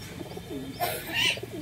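A caught Giribaj pigeon, about six months old, gives low soft coos close by, followed by a brief louder rustle or squawk, with no talking.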